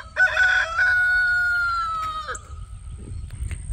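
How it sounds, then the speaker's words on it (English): A rooster crows on a homestead, one long, loud call with a rising start and a drawn-out tail, followed by quieter farmyard background noise. "I was looking over at my chickens."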